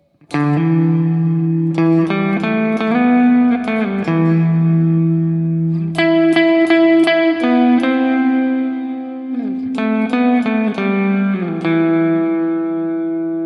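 Electric guitar plays a melodic line of sustained notes and chords, drenched in reverb with a lingering wash behind each phrase.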